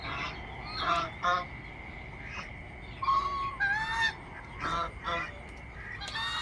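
Geese and ducks honk and quack in scattered bursts over a steady background hum, some calls loud and close, others fainter, with a large snake among them.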